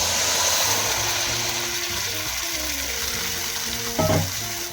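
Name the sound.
ginger added to hot ghee, frying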